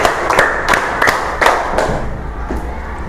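A group of children claps together in a classroom counting game, several sharp, roughly rhythmic collective claps spread across a few seconds, loud and close with a murmuring room behind.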